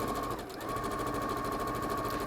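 Sewing machine stitching a 1/4 inch seam on a fabric pouch, a close, continuous mechanical whir with a rapid even needle rhythm, briefly dipping in speed before carrying on.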